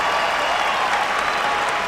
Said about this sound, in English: the crowd appreciates their effort tonight